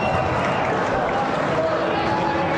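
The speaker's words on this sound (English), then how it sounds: "People are booing him now" A crowd boos in a continuous loud wash of voices that holds steady for the whole stretch, with no clear single speaker above it.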